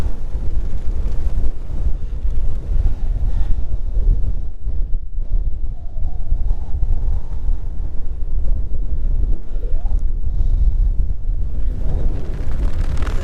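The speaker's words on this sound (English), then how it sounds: "It's a little bit windy." Strong wind on the open hilltop of Lord Herefords Knob buffets the microphone with continuous low rumbling gusts, loud and unbroken throughout.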